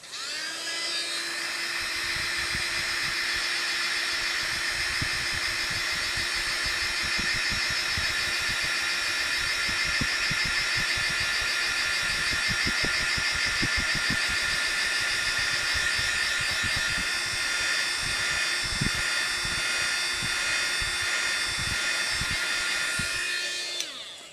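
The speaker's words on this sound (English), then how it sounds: "headphone warning, heat gun, turn it on, folks." A heat gun runs continuously at close range, a loud, steady whining blower roar with a high mechanical hum that starts abruptly and cuts off near the end.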